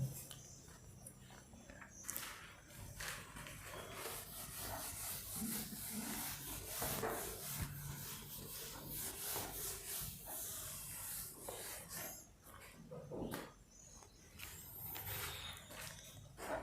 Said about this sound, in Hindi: अब मैं इसको रब कर रहा हूँ, मिटा रहा हूँ